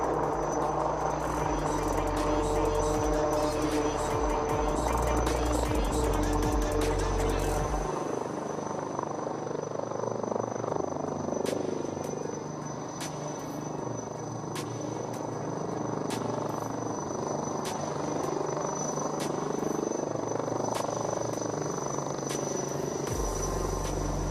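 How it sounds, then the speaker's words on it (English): A light utility helicopter flying a display at Aero India 2021, its rotor drone throbbing steadily overhead throughout, with a persistent high whine and occasional ticking from the surroundings. "After the display by the light utility helicopter"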